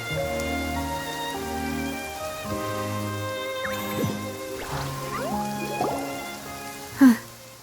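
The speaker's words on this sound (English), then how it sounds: "It's been raining non-stop for a few days now." Rain in the Genshin Impact video game falls as a steady wash over sustained musical tones, with a few brief splashy accents and one sharp louder hit near the end.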